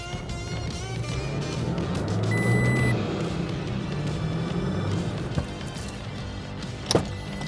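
A Toyota Tacoma pickup in two-wheel drive straining in deep sand, its engine droning low and steady for several seconds with rising effort, tires churning, plus a couple of short knocks near the end.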